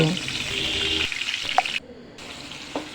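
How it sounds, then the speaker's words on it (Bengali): Marinated eggplant slices fry in hot white cooking oil in a pan, giving a steady, fairly loud sizzling hiss with a few pops while a person talks over it. "এখন আমি মাখিয়ে রাখা বেগুনগুলো দিয়ে দেব"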